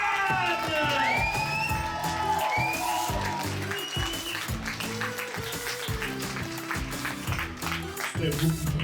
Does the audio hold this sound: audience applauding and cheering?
yes